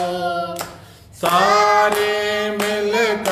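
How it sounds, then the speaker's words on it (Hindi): A church congregation claps along to a worship song, with rhythmic hand claps under loud, sustained group singing that drops briefly before resuming. "मिलकर ताली बजाओ, गाओ रब की सना, गाओ रब की सना"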